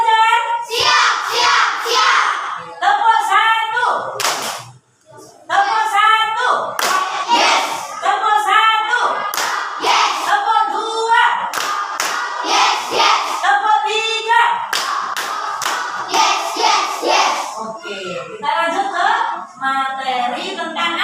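Children in a classroom clap out rhythmic clap routines in short patterned bursts, with their voices chanting along and a teacher speaking between rounds; one brief pause comes near the start.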